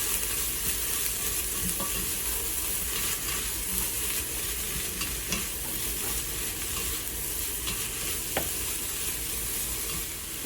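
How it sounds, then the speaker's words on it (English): Carrots and garlic fry and get stirred in a pan, a steady close sizzle with scraping, clinking stir strokes throughout and no voices, while cooking a lasagna Bolognese sauce. "You add the half a cup of carrots. Stir that around a little bit."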